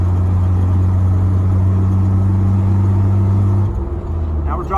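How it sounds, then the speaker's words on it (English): A 1991 Jeep Wrangler YJ engine heard from inside during a test drive: a loud, steady low drone that drops in pitch and eases off near the end as it shifts gear and coasts. "Now we're dropping into fourth, and we're coasting."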